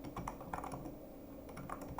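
Continuous typing on a computer keyboard, a busy stream of close, light key clicks with small bursts of faster strokes, no voices over it.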